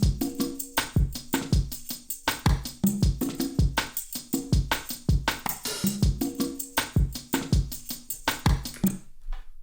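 Programmed drum beat layered with a chopped-up percussion loop, driving steady rhythmic hits that repeat in a tight groove for several bars before stopping abruptly, loud and up front with no voices.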